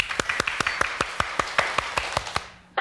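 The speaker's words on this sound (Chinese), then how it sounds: "各位开始鼓掌。" An audience claps in unison to a steady, even beat, about a dozen crisp, sharp claps spaced evenly apart, close and clear with nothing else behind them.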